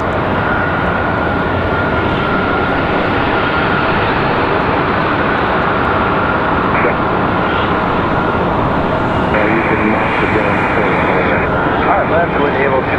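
An Embraer E190LR arriving from Mexico City at Raleigh-Durham makes a loud, continuous engine roar that stays steady throughout, with a brief tone here and there and faint talk beneath.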